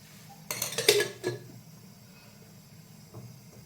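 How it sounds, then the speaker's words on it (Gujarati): Paneer cubes are set down one after another on an oiled tawa, giving a short cluster of clinks and light metallic knocks near the start, followed by a quiet stretch and one faint tap near the end. "એની પર હું તેલ એડ કરીશ. અને એની ઉપર બધા ક્યુબ મૂકી અને હું ફ્રાય કરી લઈશ."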